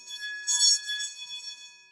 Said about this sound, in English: We'll wait for the bell to finish.